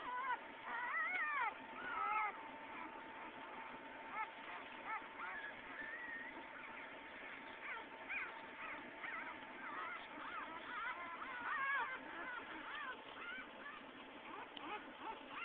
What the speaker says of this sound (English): they're all whining now because I woke them all up